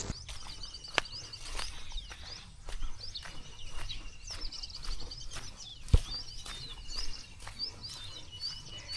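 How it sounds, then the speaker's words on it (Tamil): Sparrows chirp repeatedly in rural farmland near a dam, with quick, high calls scattered through a quiet outdoor background and a few soft knocks. "அந்த குருவி சவுண்டு தாங்க ரொம்ப சூப்பராக கேட்டுக்கிட்டே இருக்குது."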